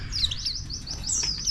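Caged songbirds being fed caterpillars chirp and tweet, giving a quick run of high, bright calls close by over a low background murmur.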